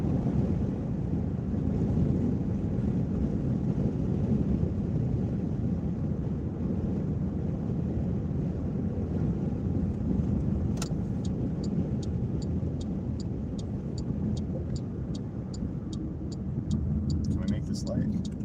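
Steady road noise from a car being driven on a DoorDash delivery run, continuous and fairly loud with a low rumble, light rattling ticks late on and a voice talking over it.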